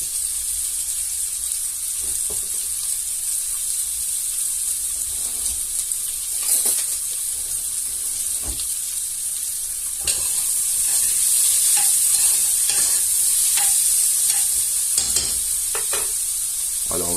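Onions sauté in a pan, giving a continuous near hiss with a bright, even sizzle and occasional soft stirring clicks, growing slightly louder toward the end, with no one talking.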